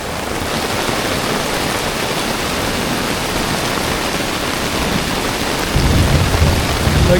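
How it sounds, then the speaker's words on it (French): Heavy rain pours without a break on a jungle camp in the Amazon during a storm, with a rumble of thunder swelling near the end. The sound is loud and dense, and no voices are heard. "Et là on se tape une tempête de malade."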